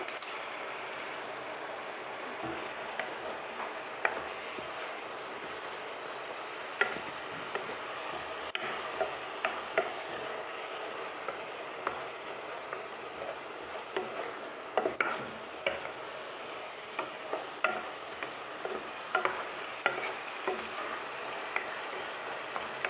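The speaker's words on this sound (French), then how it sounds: "Donc je laisse mijoter 2 minutes" Meatballs in tomato sauce simmering in a tajine, a quiet, steady bubbling crackle with scattered small pops, close and soft throughout with no talking.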